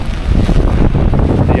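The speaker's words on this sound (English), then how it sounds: "It is quite windy." Strong wind gusting along a rainy New York City street, a steady low rumbling roar buffeting the microphone throughout, with no clear talk over it.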